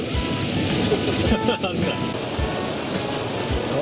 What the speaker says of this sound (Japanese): 何この雨すごいっすね、すごい雨、前が見えないっすね